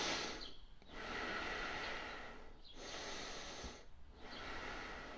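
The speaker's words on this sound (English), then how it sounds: "take some deep breaths" Slow, deep breathing done as a calming exercise, three long airy inhale-exhale cycles separated by short pauses, close and fairly quiet with a soft nasal hiss.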